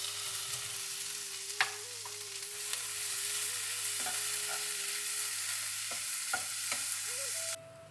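Chopped garlic and onion frying in oil, a close, even sizzle with intermittent clicks and scrapes from stirring, over a faint steady hum, cutting off abruptly at the end.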